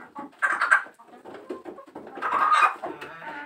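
Chickens cluck and call close by, a busy run of short clucks and throaty bird sounds rising and falling over a few seconds, with no talking.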